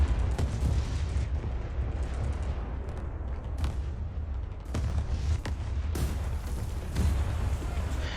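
Heavy tank cannon shots and gunfire from War Thunder, with T-34 tanks in the fight, as loud booming blasts over a constant rumbling battle din, with sharper reports near 3.6, 4.7 and 6 seconds.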